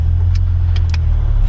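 A Toyota Cressida MX83 with original assembly-line suspension drives along, heard from inside as a steady, loud, low rumble. A few faint light clicks or rattles sit on top.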